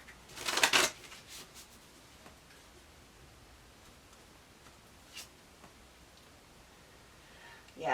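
A short burst of tarot cards being shuffled near the start, then mostly quiet with a few faint ticks and another brief riffle at the end.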